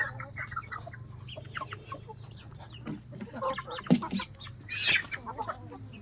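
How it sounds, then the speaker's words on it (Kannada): Chickens clucking close by at a country farmhouse, scattered irregular clucks and short calls that build toward the end, with a low hum beneath and no talk. "ಇದೆಲ್ಲ ನಿಂದ ಕೋಳಿ?"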